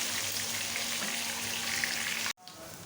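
Onions fry in a pan to golden brown, giving a continuous close sizzle that runs steadily and then cuts off abruptly, leaving a quieter background.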